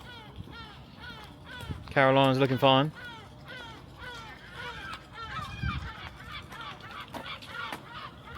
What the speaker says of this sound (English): Got a really loud seagull though, he's spoiling the party.